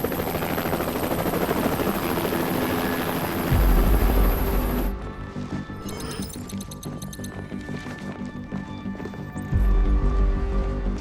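A military helicopter flies toward an island, its rotors beating in a loud, steady, close drone that runs throughout, swelling in heavy low thumps twice along the way.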